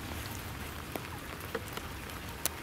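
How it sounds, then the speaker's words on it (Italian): Light rain falls after a snowfall in Pieve Emanuele, a steady soft hiss with occasional sharper drops tapping nearby surfaces, with no voices. "Adesso la precipitazione di nevosa si è ritramutata in pioggia"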